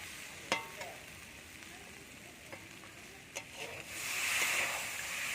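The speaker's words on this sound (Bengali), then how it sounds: "দেখুন ভালো করে কষানো হয়ে গেছে এবার জল দিয়ে দেবো" A vegetarian pickle sautéed in a pan as water is added: a few sharp spatula clicks over a low sizzle, then a louder, sustained hissing surge as the water hits the hot pan.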